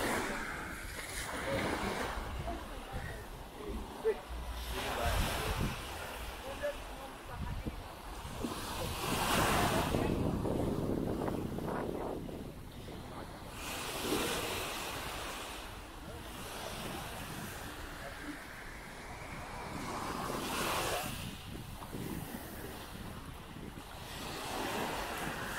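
Ocean surf breaks on a beach at Cap Haitien, Haiti, with several swelling wave washes rising and falling over a steady roar, mixed with wind buffeting the microphone.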